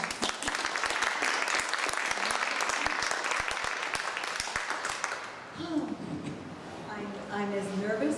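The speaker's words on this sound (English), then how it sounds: "So we can give her a great round of applause and welcome." An audience applauds to welcome a speaker at an art talk, dense steady clapping filling most of the clip before tapering off as a voice begins speaking near the end.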